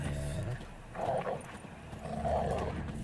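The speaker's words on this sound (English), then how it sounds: "Just beware of the dogs." Dogs in The Witcher 3 video game let out two muffled, growling barks about a second apart, moderately distant over a low, steady ambient background.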